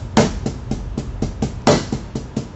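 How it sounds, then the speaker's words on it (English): Double paradiddle played on drums in a lesson: a short, close run of evenly spaced strokes with two louder accented hits marking each repeat of the six-note pattern, alone and without talk. "you can do a double paradiddle"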